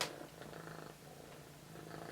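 A pet cat purrs softly up close, a low rhythmic rumble pulsing steadily after a brief rustle at the start.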